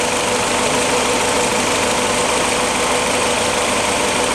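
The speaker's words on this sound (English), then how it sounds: "That's the Willys L-head engine." A Willys L-head engine idles right after a cold start, a steady, close, unbroken mechanical drone with a faint rhythmic tapping running through it and no voices.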